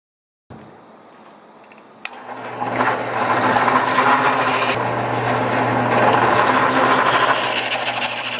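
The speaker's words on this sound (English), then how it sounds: "still have some old welds to grind off and cleaning up the edges a little bit, and then sanding the top" Steel gate parts being worked with a power grinder and sander, grinding off old welds and cleaning up edges: a steady, close abrasive whine and rasp that starts quietly and then runs loud and continuous with no talk.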